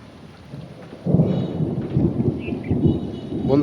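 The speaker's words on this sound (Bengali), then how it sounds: "এই বৃষ্টিতে তো বিদ্যুৎ চমকায়, ঠাড়া পড়ে, ভয় করে" A sudden thunderstorm in a village, with steady rain and a deep rolling thunder rumble that swells abruptly and keeps booming over the downpour, no voices heard.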